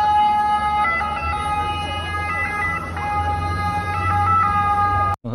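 A wailing two-tone siren from an ambulance boat in Venice, Italy sounds steadily and fairly loud, rising and falling in pitch over a low engine rumble, with no talking.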